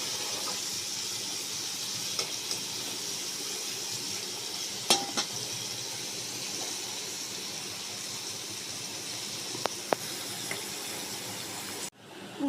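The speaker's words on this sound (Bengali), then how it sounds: "এবার উচ্ছেগুলোকে আমি লাল করেই ভাজবো" Slices of bitter gourd fry in a pan with a steady, quiet sizzle and hiss that lasts throughout. A few sharp clicks from a utensil against the pan break through now and then.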